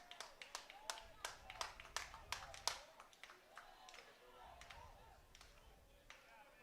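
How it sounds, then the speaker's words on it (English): Prep moms clapping in rhythm in the stands at a St. Joseph's Prep high school baseball game, a crisp run of quick, fairly close handclaps that starts, pauses and picks up again while a commentator talks over it. "Now the Prep moms did, and they getting a little rally going with the claps."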